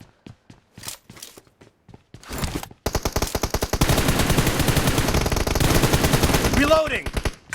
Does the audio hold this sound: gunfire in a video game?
yes